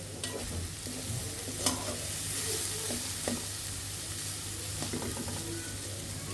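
Taro and onions fry in a pan with a soft, constant sizzle. A few scrapes and clinks of stirring rise above it now and then, all fairly quiet and close.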